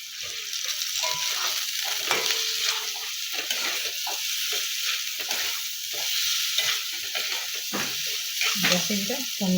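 Cauliflower pieces sizzling and frying in a pan, a dense, continuous close sizzle with stirring scrapes and clatter throughout.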